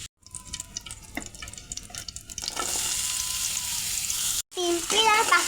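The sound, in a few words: oil frying and sizzling in a pan for pasta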